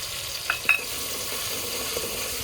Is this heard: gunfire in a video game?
no